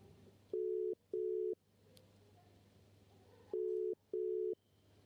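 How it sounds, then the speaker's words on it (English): A telephone ringback tone plays while a call is placed, two pairs of short steady beeps separated by a long gap, clear over a faint background hum. "I need to make a phone call quickly."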